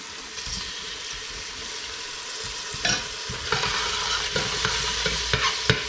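Cherry tomatoes and mussels being stirred in a hot pan, with a steady sizzle of frying underneath and a few sharper scraping clinks of the spoon against the pan toward the end.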